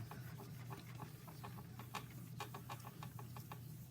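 Soft, rhythmic rubbing strokes repeat steadily, a quiet smoothing friction as polymer clay is burnished against a firm surface, with a low background hum.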